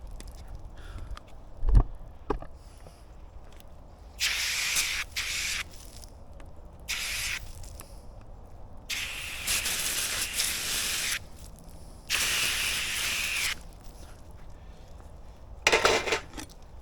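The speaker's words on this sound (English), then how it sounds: "but I'm hosing this off." A water hose sprays in repeated bursts over cut sugarcane and a knife outdoors, loud hissing gushes that start and stop with quieter handling sounds between.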